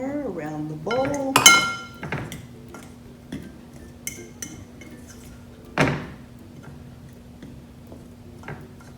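A utensil cuts fat into flour in a bowl for homemade pie crust, making scattered metallic clinks and scrapes against the bowl at close range, with a voice briefly heard at the start.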